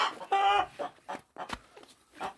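A few close chicken clucks and short squawks in quick, irregular bursts, with brief quiet gaps between them.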